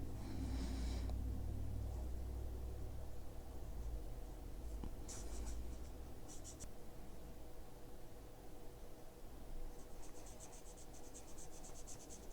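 Marker tips scratching and stroking across sketchbook paper while coloring an ink tattoo-style drawing, a faint dry rubbing under steady background hiss, with a few brief squeaky strokes.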